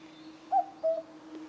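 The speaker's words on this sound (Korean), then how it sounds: "뻐꾸기 소리." A cuckoo calls twice, two short tonal notes close together, fairly near and clear over a faint low steady hum.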